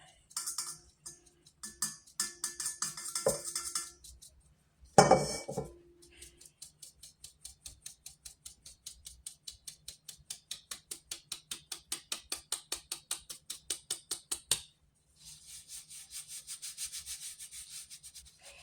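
Dry muffin ingredients, including ground ginger, being sifted. Muffled rubbing at first gives way to a long run of even, rhythmic scraping strokes, close and soft, then a short pause and more scraping.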